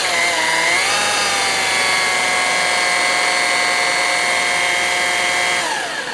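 A polishing buffer spins on a forged wheel with a loud, sustained whine that rises in pitch at about one second, holds steady, then drops near the end. The sound is close and constant, with no talking.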